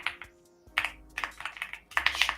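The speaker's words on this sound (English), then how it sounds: "I suck at typing." Quick bursts of clicking keystrokes on a computer keyboard during a live day-trading stream, with uneven clusters of taps separated by short pauses and no talking.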